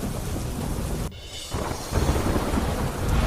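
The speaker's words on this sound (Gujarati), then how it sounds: "ભરૂચ જિલ્લામાં ધોધમાર વરસાદ" A heavy downpour falls in Bharuch district, Gujarat, amid flooded village roads: a dense, loud roar of rain that dips briefly and then swells again, with no voices.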